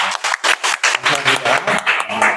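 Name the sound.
church congregation applause for youth and teachers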